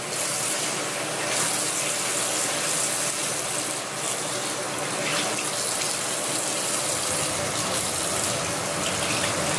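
Warm water from a tap pours steadily over a makeup sponge held under the stream, a bright continuous splashing gush close by with no talking.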